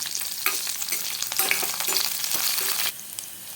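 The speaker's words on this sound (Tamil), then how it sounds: "பூண்டையும் நம்ம இந்த எண்ணெயிலேயே நல்லா பொரிய விட்டாச்சு" Garlic frying in oil in a pan for rasam, a bright, steady crackling sizzle with light stirring scrapes that drops to a softer hiss near the end.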